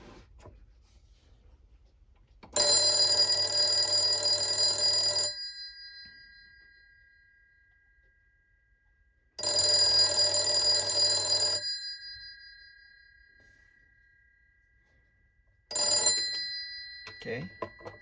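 Ringer of an Italian Siemens/Italtel S62s telephone sounds in three loud bursts of metallic bell ringing, two lasting a couple of seconds each and a short final one, separated by quiet gaps.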